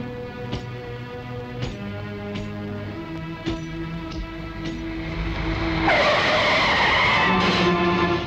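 A car skids hard on a road, a long loud tire screech with broad noise rising after several sharp tonal knocks and a steady hum, filling the end of the clip without any talk.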